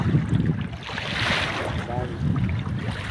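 Sea waves wash onto a Kuwait beach, a loud, close surge of rushing surf mixed with gusty wind buffeting the microphone.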